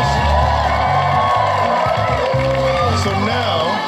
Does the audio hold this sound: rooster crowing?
no